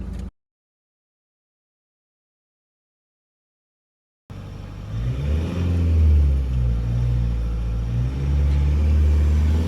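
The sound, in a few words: Mahindra XUV500 and Hyundai Creta 1.6 diesel drag race launch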